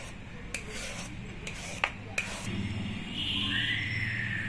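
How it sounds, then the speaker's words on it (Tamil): A knife scrapes lightly at vegetable skin while it is peeled for bajji, making dry rubbing and rasping strokes with a few sharp clicks, close and steady over a low background hum. "லைட்டாக தோல் சீவினிங்கன்னா போதும்."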